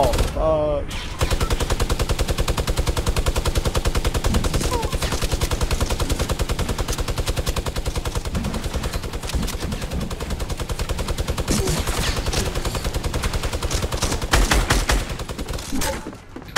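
Video game gunfire rattles nonstop in dense rapid bursts, loud and close, filling the whole stretch with only brief shifts in intensity.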